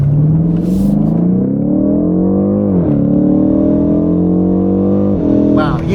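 A BMW M850 xDrive accelerates hard from the cabin, its engine note climbing in pitch, dropping sharply at a gear upshift near three seconds and again near five, then rising once more; loud and close.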